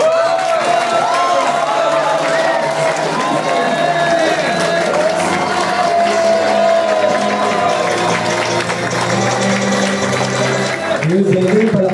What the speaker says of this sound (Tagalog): 2 milyon palakpak!